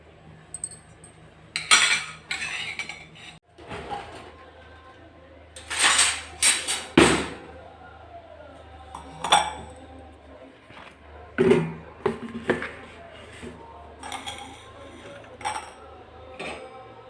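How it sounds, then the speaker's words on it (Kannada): Metal utensils clink and clatter in loud, scattered bursts while a hair-colouring decoction of beetroot, cloves and aloe vera is strained at home, with a voice speaking between the knocks. "ಡಿಕಾಕ್ಷನ್ನು ಸೋಸ್ಕೊತಾ ಇದ್ದೀನಿ"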